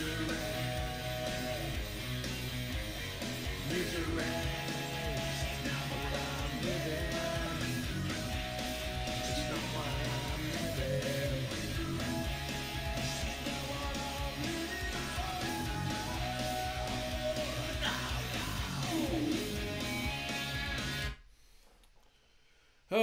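A song plays continuously, dense full-band rock at moderate level for about twenty seconds before cutting to near silence at the end.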